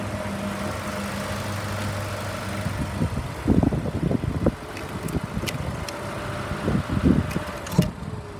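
A 2007 Ford Escape engine idles steadily up close, a low even hum broken by a few knocking clatters and rattles before it cuts out.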